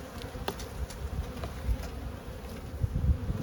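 Honeybees at an open hive during a frame inspection drone in a continuous close buzz, with individual bees zipping near and away over the steady hum.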